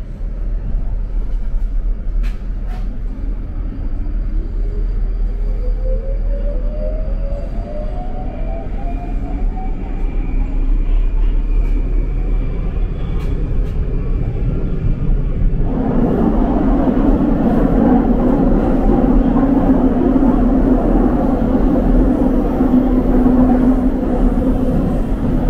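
Loud, steady rumble of a Moscow metro train on the Big Circle Line, with a rising whine as it accelerates and a heavier roar joining partway through.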